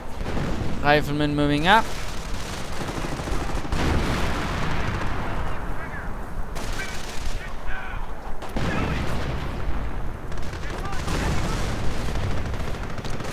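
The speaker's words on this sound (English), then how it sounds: "There you go, a bit of artillery." Artillery and gunfire in a World War II strategy game: repeated booms and rattling shots over a dense battle din, with a short burst of rapid fire near the start, while someone talks throughout.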